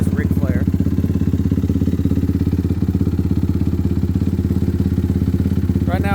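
A built Yamaha YFZ 450R ATV with a 480 big bore kit runs just after a cold start, its loud, steady, rapid engine pulse close to the microphone. Brief speech comes at the start and end.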